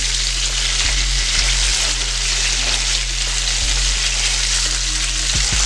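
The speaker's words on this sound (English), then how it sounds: "We're just searing them to get a depth of flavor." Country style ribs sear in a hot pan with a steady, dense sizzle throughout, a few low thumps and scrapes breaking in now and then; no voices.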